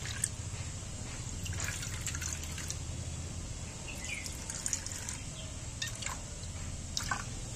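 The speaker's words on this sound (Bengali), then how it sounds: "চারটে বাটিতে আমি খানিকটা করে জল দিয়ে দিচ্ছি প্রথমে" Water being poured into four bowls while making egg bhapa, a small steady trickle with a few light drips and splashes, heard alone with no talking.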